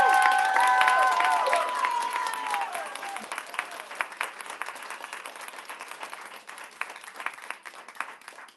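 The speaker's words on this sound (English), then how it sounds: "Can we have a very, very loud applause for Elaine?" Wedding guests at a Vedic ceremony in a New York hall break into loud applause with a few cheers, the clapping dense at first and then thinning into scattered claps as it fades over several seconds.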